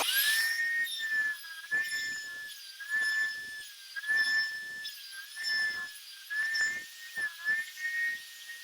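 A Porter Cable router cuts half-blind dovetails for drawer boxes in a jig, giving a steady high-pitched whine that dips and recovers in repeated pulses as it works along the board, close and loud with no talking.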